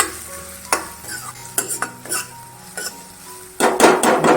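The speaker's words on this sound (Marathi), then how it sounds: "तर शिमला मिरची कापलेली ती घालते मी. चांगली परतून घ्यायची शिमला मिरची." Chopped capsicum is sautéed with onions in a pan for Kobi Manchurian, with intermittent spatula clinks and scrapes against the pan, then a louder burst of sizzling and stirring at the end.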